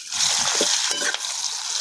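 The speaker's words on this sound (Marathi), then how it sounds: "कढई मध्ये एक उबळी तेल टाकून मिरची परतून घेऊ" Green chili peppers fry in a splash of oil in a wok over a wood-fired stove, a steady hissing sizzle with stirring scrapes, loud and close throughout.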